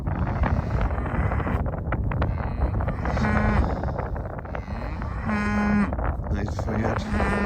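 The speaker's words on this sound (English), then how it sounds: "That's a break heart beef shorthorn cow." A Breakheart beef shorthorn cow from a pedigree herd moos in long, loud, tonal calls out on grass pasture, several lowing bellows spread across the clip over steady wind rumble and faint background voices.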